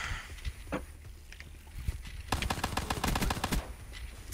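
A rapid burst of automatic gunfire in a video game gun match, a fast rattling string of shots after a quieter stretch of scattered clicks and small noises, fairly close and with no talking.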